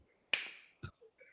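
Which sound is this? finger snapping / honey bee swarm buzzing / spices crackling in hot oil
finger snapping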